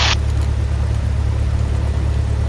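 Cessna piston aircraft engine running steadily before takeoff, a loud constant low drone with a brief higher whine at the start, no speech over it.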